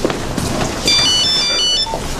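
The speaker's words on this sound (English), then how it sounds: "Will somebody answer this sodding phone?" A telephone rings loudly with a bright electronic trill sustained for about a second over a noisy indoor background, with no talk.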